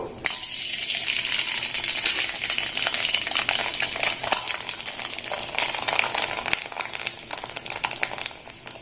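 Sago chips (papad) fry in hot oil with a dense, bubbling crackle that holds steady throughout. Sharp pops and spits break through now and then, and no one speaks.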